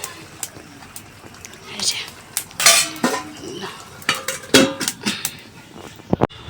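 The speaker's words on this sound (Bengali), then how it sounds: "তো মাংসটা দিলাম হচ্ছে কষাতে একদম কষতে দিয়ে দিলাম" Goat mutton being browned in a pan on the stove, with metal utensil scrapes and clinks over a faint sizzle, loud irregular stirring strokes close by, and speech mixed in.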